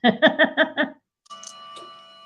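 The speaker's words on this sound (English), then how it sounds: "There's the bell." A bell or chime rings in five quick, evenly spaced strikes, then after a short pause a single sustained ringing tone hangs and fades, clear and close.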